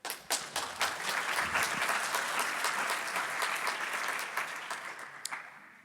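Conference audience applauding a speaker taking the stage: a few opening claps swell into full, even applause from the room, which holds steady, then tapers off with a last scattered clap.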